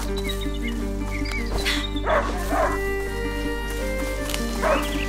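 A hunting dog in the video game A Plague Tale: Innocence barks and yelps in several sharp bursts at mid distance over a steady low game soundscape, with brief whimpering in between.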